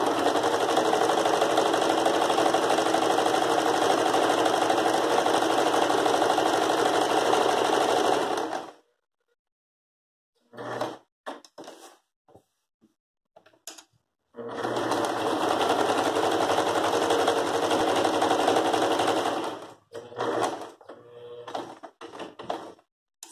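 A domestic sewing machine stitches a border on a cotton dish towel, running loud and steady in two long bursts of about eight seconds each, with short pauses and faint handling noises between them.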